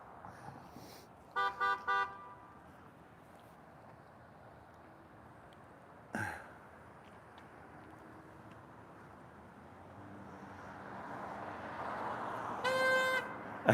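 Faint distant car horns honk in short bursts at a street protest over steady traffic rumble, with a louder blare near the end.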